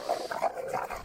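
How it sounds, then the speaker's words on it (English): Reactive dog making low growls and rapid breathy panting in a short burst, close and moderately loud. "Must be a reactive dog."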